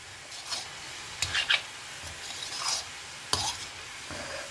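A spoon stirs cabbage mixed with grated coconut in a pan, giving a few scraping sweeps and soft rubbing strokes over a faint sizzle, close and moderately quiet, with no speech.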